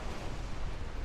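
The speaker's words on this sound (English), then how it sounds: "he's gonna take this torpedo" A torpedo strikes a warship in Ultimate Admiral Dreadnoughts, heard as a dense, rumbling explosion filling the whole short moment with no voices.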